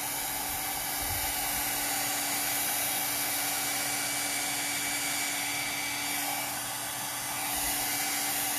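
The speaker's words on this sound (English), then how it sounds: "when I take my heat gun and I kind of put it down, see how it kind of spreads the colors out" A heat gun blows hot air over poured epoxy resin tinted with mica powder on a serving tray, giving a steady, loud, even whoosh and hiss with a faint electric hum that runs unbroken, with no one talking.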